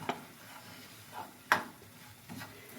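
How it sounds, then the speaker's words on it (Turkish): Flour being stirred into melted butter in a pot for semolina halva: a faint, low sizzle with a few distinct spoon knocks and scrapes against the pan, no talking. "şöyle 3 kaşık unumu karıştıracağım ki o da beraber kızarsın"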